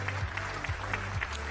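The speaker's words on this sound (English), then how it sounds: "Can I have a big round of applause?" Brief applause from an audience at a running conference in Bangkok, a few scattered claps over a low steady hum from the room's sound system.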